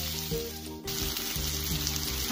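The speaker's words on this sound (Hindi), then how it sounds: "टमाटर और कोकोनट पाउडर डाल के थोड़ा और फ्राई कर लेंगे" Tomatoes and coconut powder frying in a pan for a chicken curry masala, with a steady loud sizzle and faint stirring scrapes, no voices.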